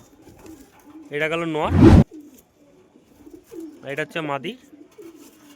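Teddy and golden pigeons, a breeding pair with eggs and chicks, give a couple of deep, close coos, each a short rolling burst, while someone talks in between.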